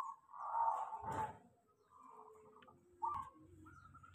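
A zebra dove (perkutut) coos softly nearby, a few rounded, hollow notes with short pauses, against a quiet background.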